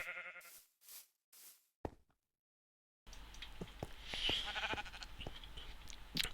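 Sheep in the Minecraft video game give a few short bleats in quick succession, followed by silence and then quiet game ambience with soft clicks and faint knocks.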